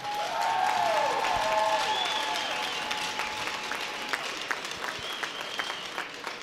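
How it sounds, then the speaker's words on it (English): An audience applauds during pre-game introductions at a Bruins Alumni vs. Team Edna hockey game, sustained clapping in a large arena with a brief tonal sound at the start, easing slightly over several seconds. "A round of applause for Mr."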